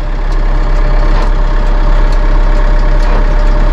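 A Massey Ferguson 2850M compact utility tractor with a 48.8 hp engine runs loud and close at a steady idle while its PTO is engaged with soft start, a constant heavy drone with no change in pitch.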